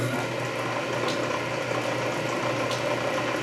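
A Canedy Otto drill press turning slowly in back gear at around 60 RPM, with a steady mechanical whir and faint ticking, close and continuous without talk.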